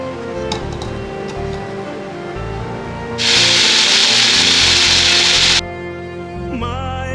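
An electric grinder whirs loudly for about two seconds, blending two large onions, each cut into four pieces, into a smooth paste. It runs between quieter kitchen knocks and hum.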